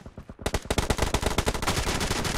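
Rapid automatic gunfire in PUBG Mobile Domination mode, a dense burst of sharp shots firing in quick rhythm after a brief quieter lead-in, loud and close.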